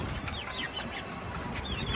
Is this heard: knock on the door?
no